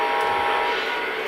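A model train runs with a steady droning, tonal hum throughout the short stretch, fairly loud and unbroken, with no clear talk.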